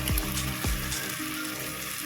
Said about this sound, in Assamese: 2 মিনিটমান ভজাৰ পিছত এতিয়া আমি কৰ্ণফ্ল'ৰ গুলি থোৱা পানীখিনি ইয়াতে দি দিম।